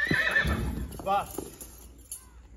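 A newly bought horse neighs loudly and close, a quavering whinny over hoofbeats, while someone speaks encouragingly alongside.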